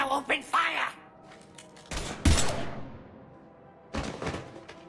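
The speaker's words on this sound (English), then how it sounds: "Now open fire!" Gunfire breaks out in the game Mass Effect 3 in a few loud, separate bursts of shots and thuds, with a voice speaking at the start.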